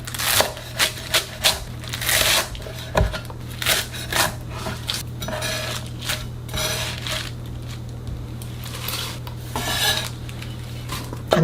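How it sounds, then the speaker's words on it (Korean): A knife chops garlic chives into short lengths on a cutting board: a close series of irregular clacking cuts, some sharper than others, over a faint steady hum. "부추 먹기 좋게 4 내지 5cm 정도로 잘라주세요"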